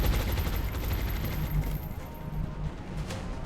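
Rapid suppressing gunfire from the XCOM Long War mod, a dense loud burst of automatic shots rattling continuously for a few seconds with no talk over it.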